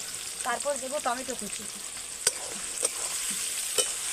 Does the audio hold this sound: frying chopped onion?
yes